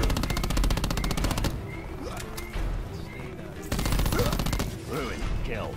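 The Saug 9mm submachine gun fires in Black Ops 4, loud rapid automatic bursts of close gunfire separated by short pauses, with game effects underneath.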